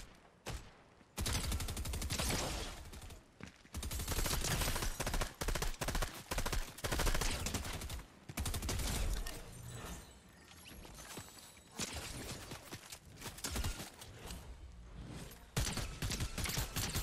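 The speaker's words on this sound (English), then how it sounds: "Well, there's gunfire." Dense Fortnite video game gunfire: loud, near bursts of rapid shots and sustained volleys fill most of the stretch, broken by a few brief pauses, with no talking.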